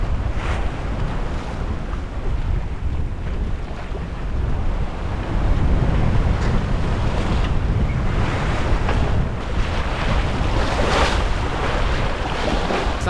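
Choppy waves slap and wash around a sailboat under way without its engine in shallowing water, while steady wind roars across the microphone in a constant, loud rush.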